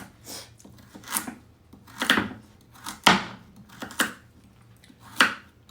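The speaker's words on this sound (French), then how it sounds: "on va maintenant venir découper. Je vais faire des petites rondelles en fait." A knife slicing carrots into small rounds on a cutting board for a potato and carrot dish with fish: about six crisp, separate chops fall at a slow, even pace, close and clear in a quiet kitchen.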